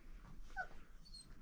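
A dog gives a soft, brief whimper with a thin high whine, faint and close in a quiet room, heard alone.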